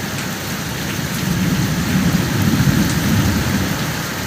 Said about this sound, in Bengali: খুব আকাশ চমকাচ্ছে, দেখো আকাশ গুড়গুড় করছে, ভালো বৃষ্টি হচ্ছে